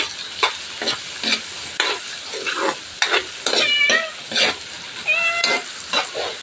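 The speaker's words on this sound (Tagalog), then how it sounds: "Haluin ko siya guys." Bitter gourd and egg being stirred in a sizzling frying pan, with repeated scraping strokes over steady frying, and a few short high cat meows partway through.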